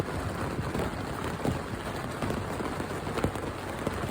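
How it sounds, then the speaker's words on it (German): Steady rain drumming on a Cabanon Malawi 2.0 tent during prolonged rainfall in Croatia, a dense continuous patter with scattered louder drops, close and even, with no voices. "Und es regnet wirklich seit Stunden unentwegt hier in Kroatien."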